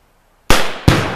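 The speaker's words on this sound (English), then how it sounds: "It blew up in the air." Two sharp, loud blasts a fraction of a second apart as a 20 ounce bottle explodes outdoors near a truck tailgate, each with a quick decaying boom.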